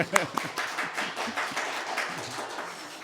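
Church congregation at a Sunday service clapping in a modest, uneven patter that tapers off, with a voice speaking over it.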